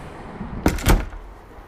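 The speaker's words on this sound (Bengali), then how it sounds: "দরজা বন্ধ করে ঘরে ফিরে" A door shuts with two quick, solid thuds, the second heavier, close and loud against a quiet room background, as a sound effect in a Bangla horror audio story.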